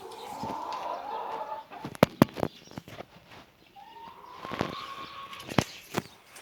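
Chickens cluck and squawk nearby in short bursts, with a rising rooster-like call midway, over quiet farmyard background.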